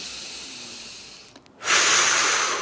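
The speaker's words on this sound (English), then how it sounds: "Breathing deeply." A deep breath, first a long soft inhale and then a loud, broad hiss of exhaled air close to the microphone, with a brief pause between them.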